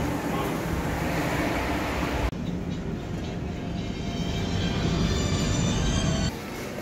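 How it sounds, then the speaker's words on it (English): A train pulls into a station in South Korea, making a loud, close, continuous rumble of wheels and carriages that shifts in tone partway through and continues steadily. "Train is here."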